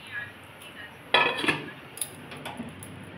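A lid goes onto a cooking pot of fish curry with lentils, potato and ridge gourd, giving two close metallic clanks and a light rattle in a quiet kitchen.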